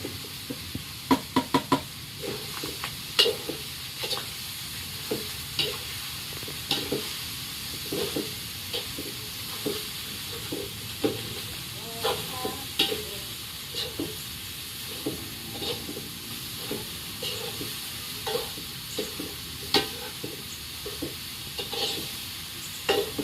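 Shrimp paste (balaw) frying with tomatoes in a pan, a steady broad sizzle running throughout with frequent light knocks and scrapes of stirring, close and fairly loud, with no talk.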